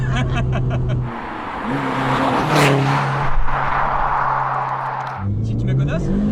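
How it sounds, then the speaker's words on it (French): Audi TT with doubled torque driven hard, heard from inside the car: the engine roars and climbs in pitch through hard acceleration, then eases off under braking, while occupants talk loudly in French over it. "ça freine un truc de ouf, ça freine aussi fort que ça accélère"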